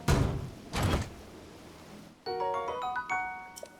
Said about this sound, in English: Open the chest.